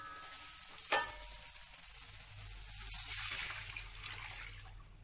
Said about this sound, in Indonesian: Sekarang kita langsung tambahkan air aja ya teman-teman.